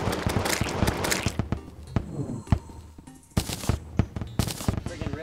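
Weapon fire aimed at a demon in the Terraria video game, heard as a rapid burst of sharp cracks and thumps, then more spaced shots after a brief lull, mixed with game effects.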